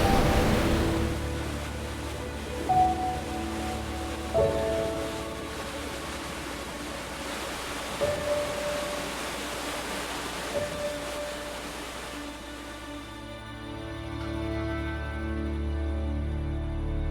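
Valurfossen waterfall on Hardangervidda, Norway, gives a steady broadband rush of falling water that runs the whole time. Sustained tonal lines sit over the roar, and the sound thins out near the end.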